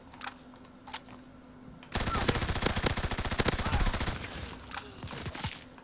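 Rapid-fire ORSO submachine gun in Call of Duty WW2 blasts in a long, dense burst of closely spaced shots after a few scattered earlier shots, then continues in shorter bursts, with some talk in the background.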